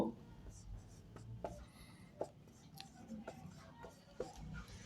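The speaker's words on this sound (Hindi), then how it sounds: "अलग कलर से लिख देते हैं इसको" A pen writing in a different colour on a board or paper, with soft scratchy strokes and brief taps under low room noise.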